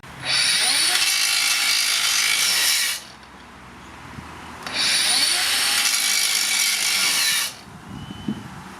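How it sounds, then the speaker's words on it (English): Makita 7-inch angle grinder spinning up loud and high-pitched in two bursts of about three seconds each, separated by a quieter pause where it is stalled under load, with clunks in the gaps. "Now it's time for my favorite grinder test, the stall test."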